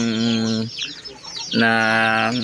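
A Shamo native chicken hen gives two loud, drawn-out calls close by, separated by a short pause of rustling and softer clucking.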